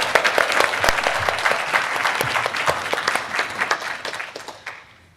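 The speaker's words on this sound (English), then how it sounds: "I'd like to ask you all to join me in a round of applause for these beautiful minds" A crowd at a regional housing breakfast forum gives a round of applause, with dense, lively clapping that gradually thins and fades out toward the end.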